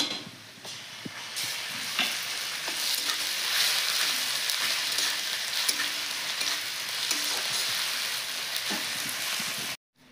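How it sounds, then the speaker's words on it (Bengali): Onion frying with ginger garlic paste in hot oil sizzles steadily up close, with occasional scraping stirs and soft pops, ending abruptly just before the cut. "এখন আমি এর ভিতরে দিয়ে দেবো আদা রসুন বাটাটা"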